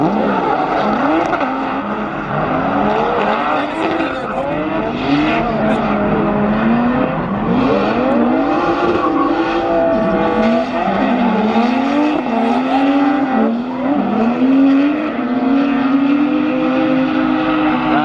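Cars drifting at a Winter Jam event, heard continuously and loudly from the grandstands, with engines revving and wailing through the whole stretch and rising, gliding engine pitches that suggest sliding runs; tire squeal is not clearly separable from the engine noise.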